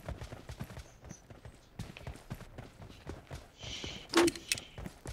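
Horse galloping in a PUBG Mobile-style game on the Livik map: a quick run of soft hoof clip-clops, fairly faint, with a brief louder burst of game effects near the end.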